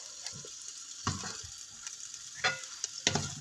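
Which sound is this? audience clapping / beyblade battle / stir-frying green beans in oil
stir-frying green beans in oil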